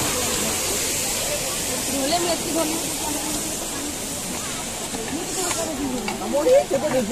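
Khandadhar waterfall in Sundargarh, Odisha, the state's second-highest falls, sends up a steady broad hiss of rushing water while people talk over it nearby.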